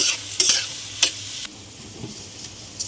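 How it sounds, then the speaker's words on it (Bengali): Onion, beans and green chilli fry in a pan, with a soft hiss broken by a few sharp scrapes and clinks of stirring near the start, then a quieter, steady sizzle. "পেঁয়াজ, বিনস, কাঁচা লঙ্কা দিয়ে ভেজে নেব।"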